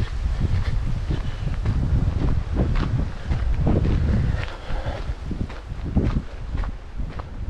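Strong wind buffets the microphone on an exposed hilltop run in the Pentland Hills, a continuous loud rumbling roar with gusts swelling and easing, no speech.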